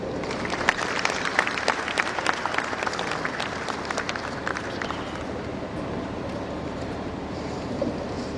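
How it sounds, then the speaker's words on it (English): Audience applause at an investment summit opening, a crisp crowd clapping wash strongest early and gradually thinning into a quieter rushing murmur, with no talking over it. "Another round of applause"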